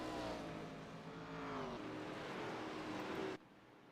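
Race cars in the iRacing video game drone around the track, with engine tones sweeping up and down as they pass. The steady roar holds at moderate loudness, then cuts off abruptly near the end.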